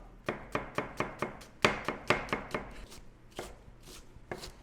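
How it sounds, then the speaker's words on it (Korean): A knife slices an onion on a cutting board, about a dozen crisp close strikes in a steady rhythm, pausing briefly before a few more cuts. "다음 양파를 채 썰어 줍니다."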